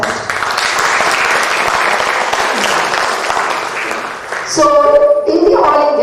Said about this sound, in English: I think Sunil deserves a good applause for that.